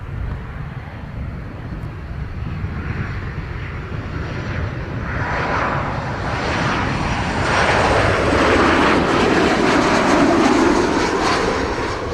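A United airliner lands on runway 07 at Montego Bay, its jet engine roar building from a distant rush to a loud, close swelling whine and rumble toward the end, with no talking.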